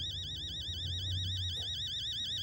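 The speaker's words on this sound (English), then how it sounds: "Oh, my alarm." An alarm clock rings inside the video game Fears to Fathom, a steady warbling electronic beep pattern that repeats continuously and loudly throughout, with a low rumble underneath.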